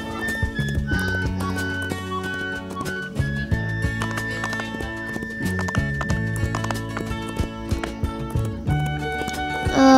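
Horses whinny over steady clip-clopping hooves in a video game, set against a busy musical backdrop with a synthetic feel.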